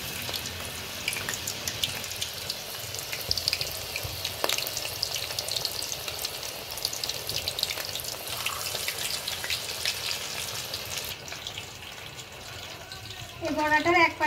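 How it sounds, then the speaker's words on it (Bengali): Pumpkin flower fritters fry in oil over low heat, a steady, moderate sizzle and crackle that continues throughout, with a few sharper clicks and bubbling toward the end. "এই কুমড়োর ফুলটাকে হালকা আঁচে ভেজে নিতে হবে"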